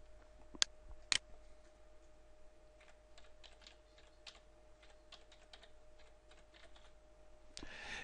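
Keys clatter on a computer keyboard in steady bursts of typing, close and fairly quiet, with a couple of sharper clicks near the start and another toward the end.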